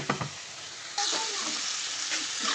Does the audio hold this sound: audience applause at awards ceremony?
no